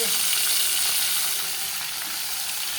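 Paneer frying in a pan gives a steady, close hiss and crackle of hot oil that holds evenly throughout, with no voices.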